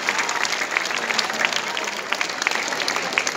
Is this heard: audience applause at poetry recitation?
yes